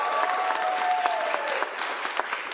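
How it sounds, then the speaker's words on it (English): Crowd applause for the speakers at a governor's bill signing event, a full, even burst of many people clapping that carries through without pause, with a faint tonal ring audible beneath it. "join me in giving a round of applause for all of our speakers"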